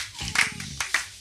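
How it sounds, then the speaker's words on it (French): Worshippers clap during a church service as a brief burst of sharp hand claps, mixed with a voice calling out over them. "Donnons des acclamations à Jésus."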